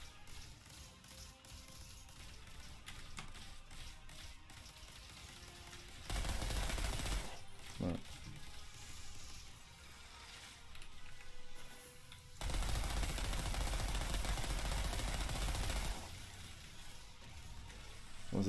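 Bursts of automatic gunfire sound in the video game Outriders, two long sustained volleys with quieter stretches of game ambience between them.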